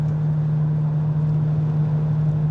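Steady low drone of a Jaguar XJS V12 with six-speed automatic cruising at about 56 mph around 1,500 RPM, a smooth, even engine hum with road noise and no voices.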